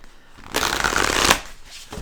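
A deck of advice cards is riffled and shuffled up close for about a second, a dense papery flutter rising and then stopping, with quiet room tone around it.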